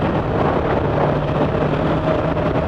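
A Yamaha YZF-R3 motorcycle holding a steady 4,500 RPM at about 33 mph, its engine drone sitting under loud, continuous wind rush with no change in pitch.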